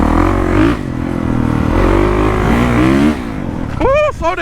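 A fast dirt bike ridden on a trail with switchbacks and hill climbs, its engine droning loud and close and surging in pitch, with a voice speaking briefly near the end.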